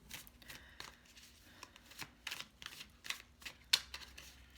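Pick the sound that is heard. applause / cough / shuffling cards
shuffling cards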